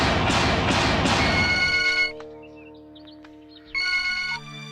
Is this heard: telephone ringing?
yes